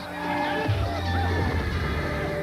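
A horse on a film set for a period production whinnies, a loud sustained neigh over steady background noise and low rumble.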